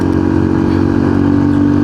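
A Yamaha LC motorcycle engine, nicknamed V8, running steadily at close range, a loud continuous low hum with a slight revving edge and no pauses.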